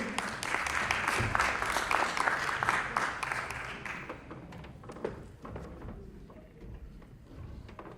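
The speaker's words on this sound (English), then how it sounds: "Let's give them applause, please." Applause from a conference audience before a panel discussion, steady clapping that thins out and fades to scattered claps toward the end.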